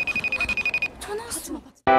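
A telephone rings in a quick run of bright, evenly pulsed trills that cut off after under a second, followed by a short voice and a sudden burst of loud music.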